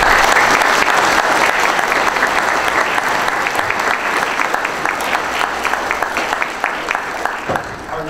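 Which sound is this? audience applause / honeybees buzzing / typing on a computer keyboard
audience applause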